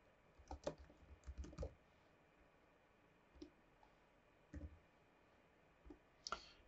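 Typing on a computer keyboard comes in short bursts of quick clicking keystrokes, separated by quiet gaps, close and fairly soft with no talking.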